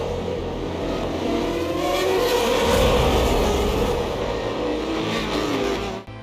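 Formula 1 cars racing at the 2011 Monaco Grand Prix, a loud blended roar of engines rising and falling as cars pass, with a crowd-like wash underneath.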